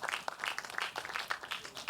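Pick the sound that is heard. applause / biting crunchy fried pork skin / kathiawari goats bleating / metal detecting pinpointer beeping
applause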